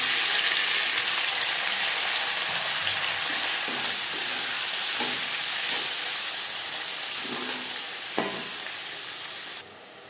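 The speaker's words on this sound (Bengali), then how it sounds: "মাছ ভেজে নেওয়া তেলে দিয়ে দেবো পেঁয়াজ কুচি," Chopped onion and tomato sizzle steadily in oil left from frying silver carp, with a dense hiss, a few spatula clinks and scrapes, and a drop in volume near the end.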